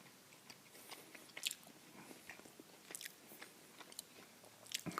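Close, quiet chewing of a bite of bacon-wrapped, butter-injected pork tenderloin grilled on a Weber Q 1200, soft wet bites and a few crunchy clicks spread irregularly.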